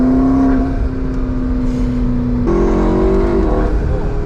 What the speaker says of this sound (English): You can hear the turbos a little more.